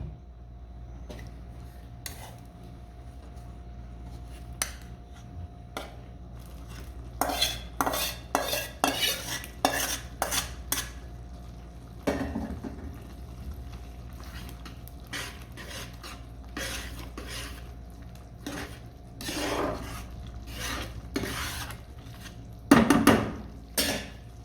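A utensil stirs cooked chicken into pasta in a pan, making scattered metallic clinks and scrapes that come in irregular bursts over a low kitchen hum, louder toward the middle and end.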